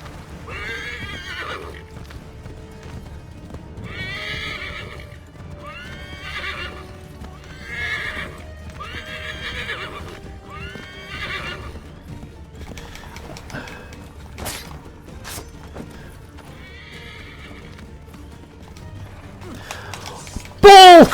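A horse in Assassin's Creed 3 neighs and whinnies in a string of repeated bursts while its hooves clip-clop along a path, ending with a short mechanical creak and click.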